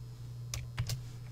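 A few soft key presses on a computer keyboard, typing out a quick search, spread unevenly over about a second against a steady low hum.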